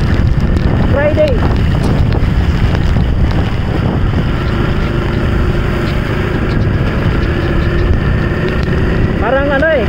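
Strong gusting wind roars across a mountain road between Pangasinan and Nueva Vizcaya after Typhoon Paolo, buffeting the microphone in a loud continuous rumble with faint passing engine tones.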